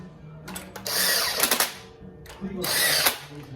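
Two short whirring bursts from a power driver tightening engine bolts on an LS3 V8, each revving up and stopping with a torque-setting click, with brief talk in the background.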